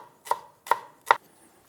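A knife slices spring onions on a cutting board, three distinct, evenly spaced chops that are crisp and close in an otherwise quiet kitchen.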